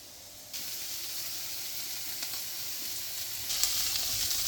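Steady, bright sizzling of ingredients caramelizing in a pan while making rice pilaf, close and continuous, growing slightly louder partway through, with no voices.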